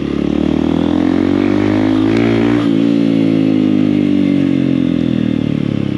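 A motorcycle revs up and shifts into a higher gear, its engine note climbing, then drops in pitch as it downshifts and engine braking slows it, loud and close the whole time.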